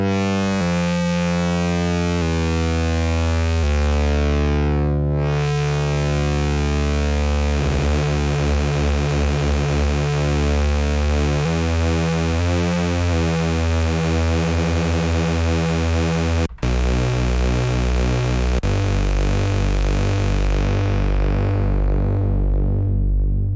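Behringer K-2 synthesizer playing a square-wave ring-modulated tone: loud, sustained buzzy harmonic notes that step through changing pitches, with a brief dropout partway, and no talking.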